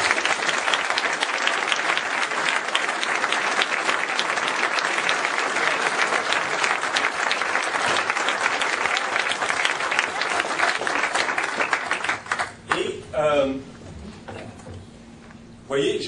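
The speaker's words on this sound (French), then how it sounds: "Alors, une main d'applaudissement." Debate audience in Bécancour applauding, a sustained, even wash of many hands clapping that carries on for about twelve seconds before dying away, after which a voice begins speaking.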